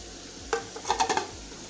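Potatoes and peas being stirred in a pan, a short run of soft scraping and clinking strokes against the metal over a low kitchen background.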